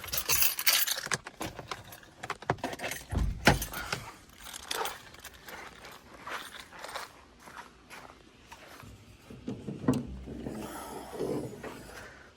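Car keys for a 1994 Cadillac Deville jangle and clink in bursts, close by, with light handling clatter and a few footsteps between, no talk.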